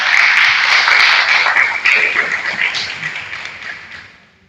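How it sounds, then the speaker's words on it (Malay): An audience applauding a guest at a formal morning gathering, steady dense clapping from a crowd that gradually thins and fades out, with no voices over it. "kita bagi tepukan kepada Bapak"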